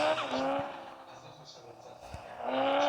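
A car driving in the video game Car Parking, its engine humming and revving with a brief tire squeal, loud at the start and end and dipping in the middle, with faint voices underneath.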